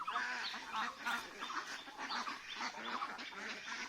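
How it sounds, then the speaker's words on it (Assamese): Ducks on a farm with small water tanks quack in a busy overlapping chorus. The calls are fairly faint and continuous. "আৰু ইয়াতে আছে আপোনাৰ এইবিলাক হাঁহ"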